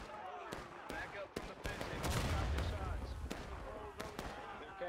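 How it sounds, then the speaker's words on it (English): Scattered pistol shots in the Civil War shooter War of Rights, sharp single cracks at irregular intervals, some near and some distant, over a constant battle din with voices talking. "Come on, pistol shots, man."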